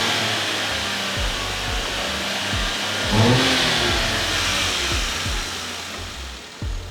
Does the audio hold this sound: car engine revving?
yes